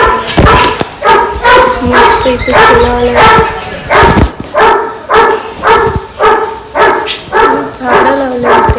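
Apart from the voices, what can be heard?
dog barking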